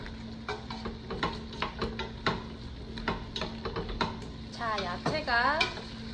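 Minced garlic and vegetables are stir-fried in a pan for a beef stew. Rapid, uneven spatula scrapes and clacks ride over a low sizzle, and a brief squeaky scrape stands out near the end.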